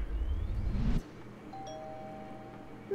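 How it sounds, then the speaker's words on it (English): A doorbell rings once inside the Little Misfortune video game, a clear electronic chime after a short burst of low rumble, with a faint sustained tone trailing on. "I ring doorbells out here."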